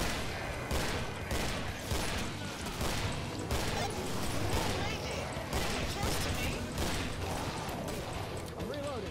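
Nonstop rattling gunfire and explosions in the co-op shooter video game Killing Floor, dense and loud throughout, with players talking over it.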